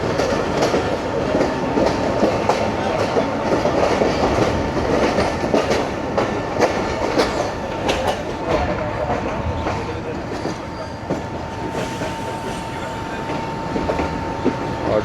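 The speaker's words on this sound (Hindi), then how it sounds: "और ट्रेन 6:02 पे वज़ीराबाद जंक्शन पे अप्रोच कर रही है जी।" A passenger train rolls toward Wazirabad Junction in heavy rain, a continuous loud rumble from inside the carriage with rhythmic wheel clatter over rail joints and faint squeals, a voice talking over it at times.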